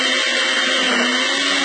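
Kitchen blender whirring steadily as it purées cut plantain with water, a continuous loud motor drone with no pauses and no talking.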